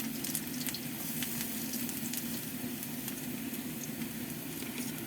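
Garlic sautéing in hot oil for a Filipino ginisang giniling with potatoes, a steady close sizzle and crackle lasting throughout with no talk over it.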